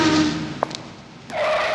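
Car sound effect triggered from a Yamaha DTX electronic drum module, a short engine rev and tire skid with a brief thud in the middle, then a rising squeal, loud and isolated.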